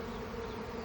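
Honey bees swarming make a dense, steady buzzing drone, close and continuous through a brief moment.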